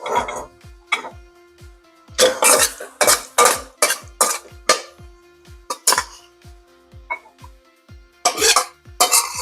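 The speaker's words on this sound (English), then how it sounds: "I'm going to go ahead and just toss this into a bowl here" Sharp clattering of dishes and utensils as lotus root and tofu are tossed into a bowl in a kitchen, a rapid series of loud close clinks and knocks in bursts with short pauses between.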